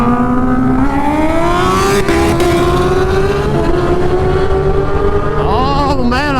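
A Kawasaki Ninja H2 motorcycle races at full throttle, its loud engine whine climbing steadily through the gears with a brief shift near the end, as voices talk over it.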